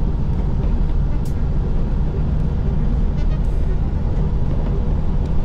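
A Mahindra car cruises at full throttle on a highway near its speed limit, giving a steady, loud drone of engine, tyre and wind noise with no speech.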